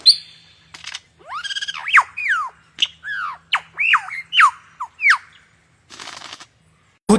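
A lyrebird imitates other birds' calls in a rapid series of sharp squawks, chirps and whistled sweeps, clear and close, with short gaps and a brief rustle near the end.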